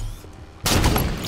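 A single sniper rifle shot in the video game Halo 5, one sudden loud, broad blast breaking in midway through quiet game ambience and ringing out briefly.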